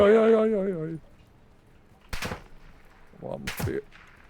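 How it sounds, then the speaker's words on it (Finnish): Gunshots in a first-person shooter video game, two sharp loud cracks about a second and a half apart, after a voice at the start. "Ammuttiin jälleen."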